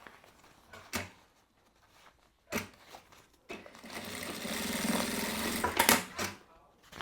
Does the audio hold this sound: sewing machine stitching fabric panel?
yes